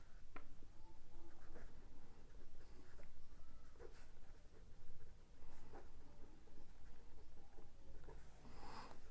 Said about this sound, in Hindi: ये लिखना है जो मैं बोल रहा हूँ